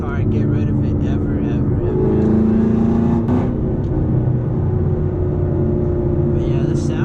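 A 2017 Camaro SS running on E85 drones steadily from inside the cabin while driving, a loud, continuous low engine rumble with shifting revs and someone talking over it.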